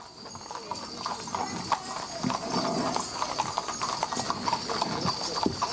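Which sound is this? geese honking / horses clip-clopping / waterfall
horses clip-clopping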